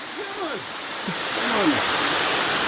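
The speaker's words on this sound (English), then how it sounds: "I'm going right up to the falls" The Champagne River falls in Saint Ann, Jamaica give off a broad, steady roar of rushing water that swells louder, while someone talks briefly over it.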